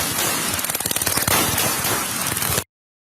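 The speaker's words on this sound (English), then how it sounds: "Then you hear the gunshots." A rapid burst of many gunshots at a police traffic stop fires in quick succession, loud and dense, for about two and a half seconds before cutting to silence.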